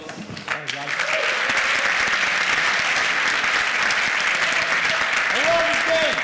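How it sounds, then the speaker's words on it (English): An audience at a software conference talk gives a round of applause that starts abruptly and holds as dense, even clapping, with a voice briefly audible at the start and again near the end. "Let's just give one more round of applause"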